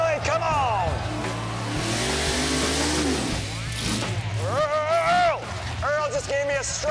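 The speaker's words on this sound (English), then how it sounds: "let's see some burnouts" A drag race car at a Pinks All Out event roars and revs repeatedly through burnouts, engine pitch sweeping up and down over crowd noise and an announcer talking.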